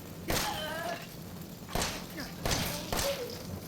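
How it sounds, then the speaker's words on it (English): A handgun being reloaded in Resident Evil 7: a few sharp mechanical clacks and dull thuds spaced over a few seconds, close and moderately loud, over a low background hum. "Hold on, reloading."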